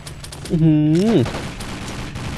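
Gunfire from the G.Death Knight gun in the Crisis Action shooter: rapid, crackling shots before and after a brief swooping tonal sound that rises and falls over the firing.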